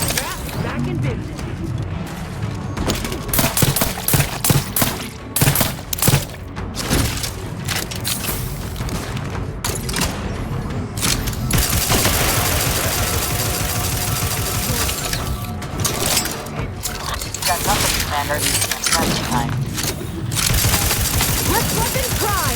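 Repeated bursts of gunfire and booming impacts in The Outer Worlds 2, loud and dense, with mechanical clatter and a voice speaking over parts of the fight.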